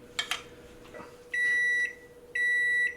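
An oven preheated to 550 degrees gives two long, steady electronic beeps of equal length, clear and close, after a few faint clicks in a quiet kitchen.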